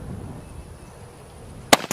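One sharp, loud crack from a Mosin rifle breaks a quiet outdoor background, with a short echo or second burst right after it.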